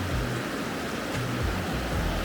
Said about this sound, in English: Look at this waterfall right here.